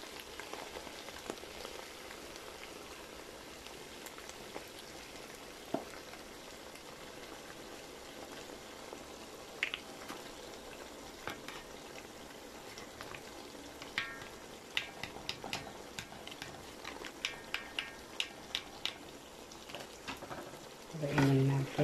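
Coconut milk bubbling and sizzling in a pan of spicy Bicol Express, a steady rain-like crackle that continues throughout, with a few sharper stirring clicks near the end.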